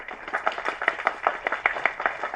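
Audience at a Tamil film audio launch event where Vairamuthu speaks, clapping hands in a brisk, steady, fairly close patter of many overlapping claps for a couple of seconds.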